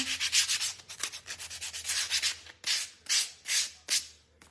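Rhythmic sanding strokes on a wooden craft piece rubbing back and forth, quick and steady at first, then slower, separate passes near the end; close and fairly loud.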